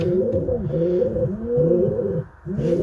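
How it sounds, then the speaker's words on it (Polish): Pigeons coo steadily in a cage built for four pairs, their low rolling calls overlapping in a continuous, close chorus with a brief dip near the end. "Gołębie te znajdują się teraz tutaj u mnie w Lublinie."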